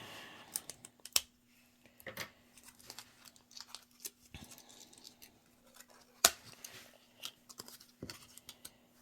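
Tape is peeled and torn off taped packaging holding Harry Potter cake ball decorations, giving sharp ripping bursts and crinkly rustles at close range in a quiet room.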